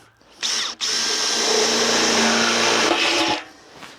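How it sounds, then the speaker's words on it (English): A power drill whirs steadily for about two and a half seconds, drilling a hole in the top of a metal drum, close and loud, with a brief stop near the start before it spins up again. "So need to drill a little hole in the top here"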